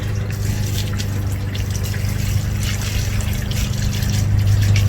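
Liquid plant nutrients are poured into a homemade plant feeding funnel set by the root system, giving a steady trickling, gurgling flow that runs continuously without a break.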